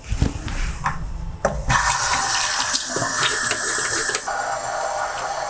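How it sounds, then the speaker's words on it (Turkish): Water runs from a tap while hands scrub with soap and splash beneath it, with soft rubbing and a few clattering knocks close by. "Ellerimizi sık sık en az 20 saniye boyunca su ve sabunla ovalayarak yıkıyoruz"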